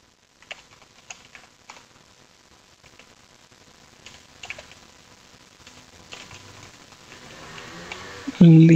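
Code being typed on a computer keyboard, a run of quick, uneven key taps up close, pausing now and then, with a louder rustle near the end.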